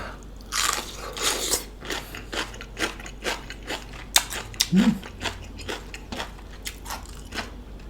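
Crisp crunching bites into deep-fried crispy pork belly, served with spicy pickled side vegetables, come as several sharp close bursts spread over the clip against a quiet background.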